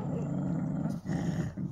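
Dogs growl while being fed, a close, continuous low rumbling snarl with a brief break in the middle before the growling resumes.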